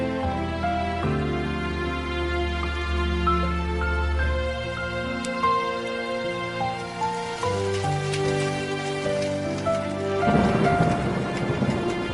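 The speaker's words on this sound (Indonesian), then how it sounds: "Badai ini namanya apa ya? Agak ganas juga." A stormy downpour with rain and rumbling thunder hisses steadily beneath a sustained musical score, with the rain growing heavier and more prominent near the end.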